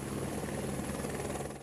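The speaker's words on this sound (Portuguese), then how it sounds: "Um helicóptero deu apoio à ação da Marinha." A helicopter supports a Navy search over the site where two boats sank, its rotor drone steady and fairly faint throughout, with no voices.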